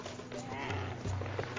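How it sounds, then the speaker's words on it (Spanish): A camel gives a short, low bleating groan, repeated a couple of times at fairly close range, with a voice speaking faintly underneath. "El camello."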